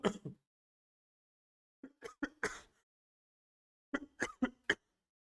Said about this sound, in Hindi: बच्चों, आज क्या खांसी बहुत ज्यादा हो रही है